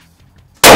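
A single sharp, loud gunshot from a bolt-action rifle, an ATA Arms Turqua or Mauser M18 Basic, cracks out after a near-silent pause at an outdoor 50-metre range.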